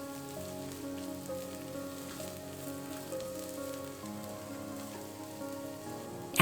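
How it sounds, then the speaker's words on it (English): Minced garlic sautéing in peanut or olive oil inside an Instant Pot, a soft, even sizzle like light rain, steady and fairly quiet throughout, with no talking. "add in the peanut oil or olive oil. Add in the minced garlic. Then sauté for roughly 45 seconds."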